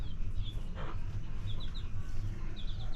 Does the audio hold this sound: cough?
no